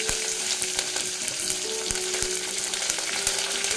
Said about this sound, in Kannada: ಈಗ ಕರಿಬೇವು ಹಾಕಿದ್ದೀನಿ.